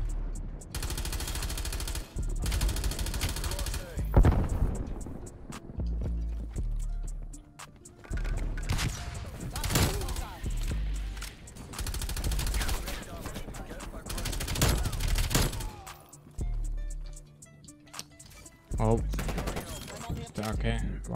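Gunfire in Call of Duty multiplayer with an LC10 class, repeated loud bursts of automatic fire and heavy impacts across the clip, close and punchy over a rumbling game backdrop.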